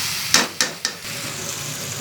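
Cabbage and Maggi noodles are sautéing in oil in a pan. Three quick, close scrapes of a utensil ring out, then a soft, steady sizzle continues.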